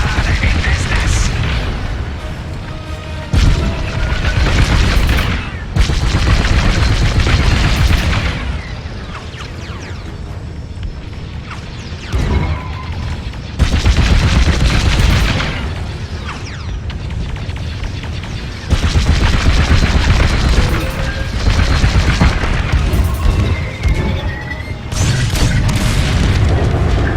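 Bombing explosions in Star Wars: Squadrons boom in heavy, loud bursts separated by brief quieter gaps, with rumbling combat noise and voices between the blasts.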